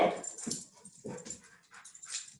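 Dog yipping and whimpering during a training session, a few close, high, short yelps and whines in quick succession, fairly quiet and unaccompanied by talk.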